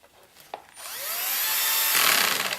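A power drill drives screws into wood while assembling a combination bevel sled for small parts, a short whine rising and then holding as a steady close whirring grind with a brief tap beforehand.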